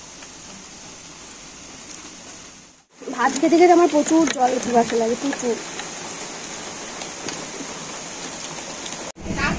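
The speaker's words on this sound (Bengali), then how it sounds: "আর বৃষ্টি পড়ছে বাইরে" Rain falls outside in a steady, even hiss throughout, with a brief cut near the start and someone talking over it for a few seconds in the middle.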